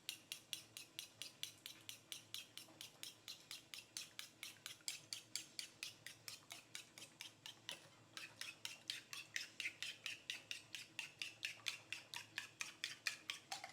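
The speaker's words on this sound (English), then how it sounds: "Now I'm going to break the egg. Just beat the egg." An egg being beaten in a bowl for steamed prawns with ginger, with a utensil clicking rapidly and steadily against the bowl in an even, continuous rhythm, close and fairly quiet, with no talking.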